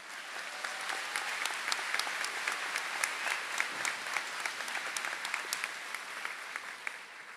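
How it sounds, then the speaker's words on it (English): Sustained audience applause at an Oregon high school graduation ceremony, many hands clapping steadily for several seconds at moderate distance, with no speech over it. "clap it up."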